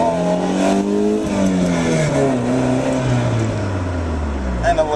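A Toyota Supra pulls hard through first gear and into a touch of second, its engine note climbing steadily in pitch as it accelerates, loud and continuous throughout.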